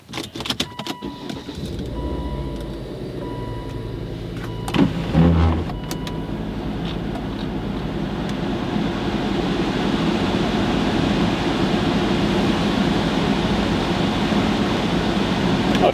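A Volvo C30 T5 out on a test drive, with a steady engine and road rumble building gradually inside the cabin after a few clicks and a brief thump at the start, no talking.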